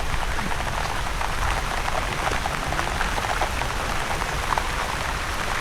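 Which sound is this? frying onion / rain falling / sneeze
rain falling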